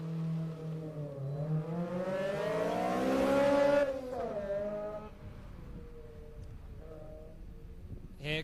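A Mazda Miata race car launches at a Daytona autocross, its engine climbing steadily in pitch through the gears, loud and close, then backing off as it pulls away with fainter revving behind.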